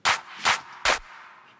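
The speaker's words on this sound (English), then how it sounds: "So first things first, you can hear there's some reverb on it." A drum-beat clap sample drenched in reverb: three crisp, loud claps in succession, the last trailing off into a lingering wash of reflected sound, with no voices.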